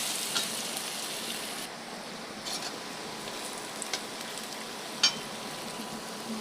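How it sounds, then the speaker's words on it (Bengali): Potatoes for noodles fry in a pan with a steady, even sizzle and a few faint clinks of the spatula, close by and without speech. "ভেজে নিচ্ছি ভালো করে। ভালোভাবে ভাজতে হবে, নাহলে আবার আলুটা সেদ্ধ হবে না।"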